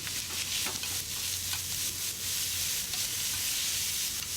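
Chopped shallots frying in hot oil in a wok, a dense, even sizzle and hiss at close range with a low steady hum beneath and faint stirring scrapes, no talking.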